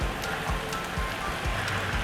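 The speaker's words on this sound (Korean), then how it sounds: "오늘 비가 와서 라이딩을 못하게 되었습니다." Steady rain falls on a surface, a dense, even hiss with scattered drops tapping close by, continuous and fairly loud with no voices.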